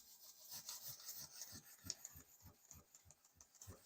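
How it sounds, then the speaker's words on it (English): A Scotch-Brite pad scrubs the hilt of a custom DIY lightsaber to strip black finish back to silver metal, a quiet rhythmic back-and-forth rasping of regular strokes, close by and with no talking. "Here I have my Scotch-Brite pad, and we're just going to start rubbing away at the hilt"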